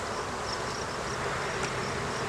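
A honeybee colony in an open hive buzzes continuously, a dense steady hum of many bees close by with faint individual wingbeat whines rising above it.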